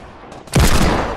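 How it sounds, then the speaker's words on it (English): Hand cannon gunfire in the Fortnite battle royale video game, a single loud, sudden burst with a booming tail that cuts off abruptly, heard alone without talk. "I eliminated one with a hand cannon."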